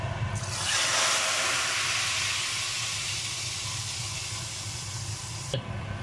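Loud continuous sizzling hiss of spices tempering in hot oil for Lucknowi nihari, starting abruptly and holding steady for several seconds before cutting off.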